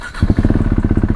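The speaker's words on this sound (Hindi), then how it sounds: "बाइक को स्टार्ट करके देखते हैं कि स्टार्ट होती है कि नहीं।" A KTM Duke 390 single-cylinder motorcycle engine fires on the first press of the electric starter and settles straight into a loud, close, steady rapid thumping idle, with no talk over it.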